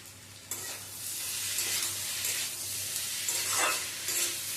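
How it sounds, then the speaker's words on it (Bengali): Vegetables, spices and soaked raw chickpeas stirred and sautéed in a pan for a Bengali chorchori, with a steady close sizzle and scraping stir strokes throughout, no voices. "ভালো করে 3-4 মিনিট ধরে কষিয়ে নেব।"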